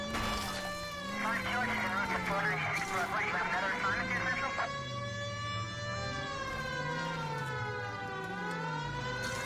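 A wailing police car siren in the video game L.A. Noire cycles up and down continuously, loud and steady, with an electronic, game-like tone and other synthetic sounds layered over it.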